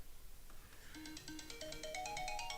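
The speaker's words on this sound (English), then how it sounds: "there goes my phone" A phone ringtone plays a bright, repeating electronic melody that builds in pitch and density over a couple of seconds, moderately loud against faint room noise, no talking.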